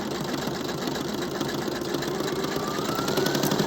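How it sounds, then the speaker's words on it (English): A fast embroidery machine stitches a small piece of brown burlap ribbon onto a project in the hoop, a steady close mechanical hum with a rapid, even needle rhythm and no voices. "Put my hoop back on the machine, lock it in place, and run that last step"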